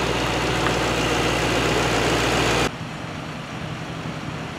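The 4-liter V8 bi-turbo engine of a Mercedes-AMG G63 rumbles steadily and loudly at close range, then the sound drops abruptly to a softer, muffled drone, with no talk.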